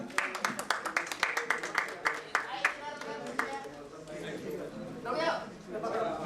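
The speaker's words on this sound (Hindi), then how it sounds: "चलो केवल जी के लिए जोरदार तालियां बजाएं प्लीज आप।" Hands clap in a brisk, distinct rhythm for an honoree named Keval ji at a stage event, fading after a few seconds as a voice speaks over the tail.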